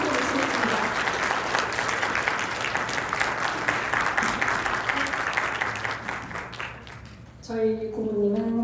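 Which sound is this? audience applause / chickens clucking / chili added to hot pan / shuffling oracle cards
audience applause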